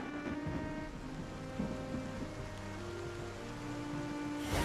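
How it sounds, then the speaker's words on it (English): Steady rain in the video game Wartales, a dense continuous hiss with a low ambient bed beneath, holding at an even level throughout and building slightly toward the end. "It's raining again."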